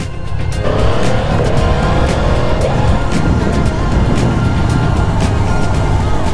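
A Yamaha MT-10 motorcycle with a crossplane crankshaft engine drones loudly and steadily while being ridden, with a rising pitch sweep early on and no talking.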